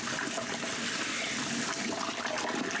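Corn being stirred into a few gallons of water for a rye whiskey mash makes continuous close sloshing and swirling water with no voices.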